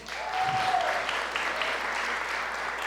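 A church congregation applauds during a service, a sustained wash of clapping at moderate distance that swells and then holds steady.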